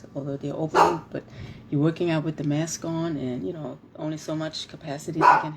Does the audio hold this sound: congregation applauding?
no